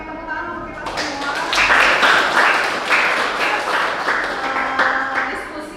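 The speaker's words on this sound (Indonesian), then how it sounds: "tepuk tangan untuk kita semua" A classroom audience at a Hindu religious education teacher-training session breaks into applause, with a burst of rhythmic clapping starting after about a second and continuing steadily and fairly loud to the end.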